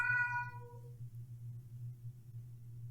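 A single short cat meow from the video game The Crooked Man opens, clear and tonal, then fades into a quiet, steady low background hum.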